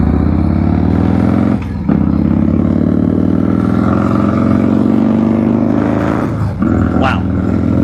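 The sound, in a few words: 1993 Harley-Davidson Softail motorcycle engine during slow race test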